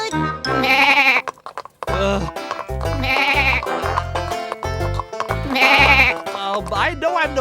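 A cartoon goat gives three loud, wavering bleats with short pauses between, mixed with upbeat cartoon music and voices.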